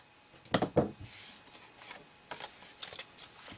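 Scissors trim rounded purse fabric in a few quick close snips, with short crisp cuts and light rustling of the material, and no voices.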